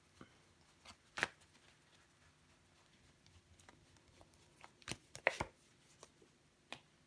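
Tarot cards are cut and handled close by in a quiet room: soft scattered taps and slides, with a few sharper card snaps standing out from the near silence.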